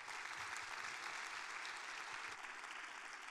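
An audience at a closing tech-conference keynote claps in sustained, dense applause, fairly faint and distant, holding steady for a few seconds.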